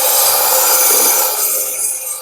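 A knife blade is drawn along the 240 to 400 grit belt of a Work Sharp Ken Onion powered belt sharpener, a bright, close, hissing grind that holds steady and then eases slightly near the end.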